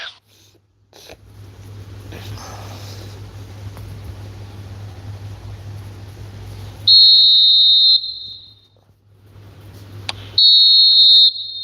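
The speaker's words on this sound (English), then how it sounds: "And there goes the final whistle." Referee's whistle in the eFootball video game, two loud sustained shrill blasts, each about a second long, heard over a low steady background hum with no talking over them.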